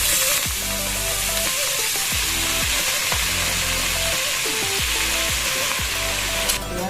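Amaranth greens (maat or chaulai bhaji) fry in oil over high heat, giving a loud, steady sizzle that fills the whole stretch, with repeated thumping stir strokes of a spoon in the pan.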